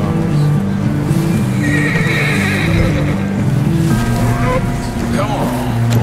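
A loud, wavering horse whinny in Red Dead Redemption 2 rises over a dense game soundscape of engine-like drone and background noise, continuing for several seconds.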